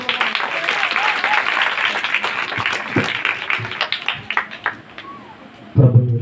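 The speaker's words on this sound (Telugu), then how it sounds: "అందరం చప్పట్లు కొడదామండి." Audience at an evening gospel revival meeting in Punukollu applauds steadily, a dense clapping roar that thins toward the end before a voice and a louder thump break in.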